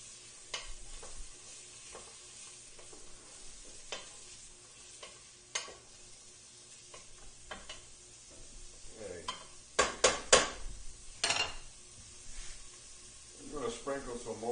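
Onions frying in a pot for fish chowder give a soft, steady sizzle, with intermittent stirring and scraping clatter, louder bursts near the end, and someone talking over it.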